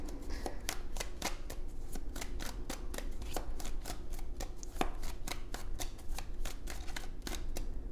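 Tarot cards being shuffled and drawn from a deck, a close, steady run of crisp papery riffles and snaps in quick irregular rhythm over soft background hiss.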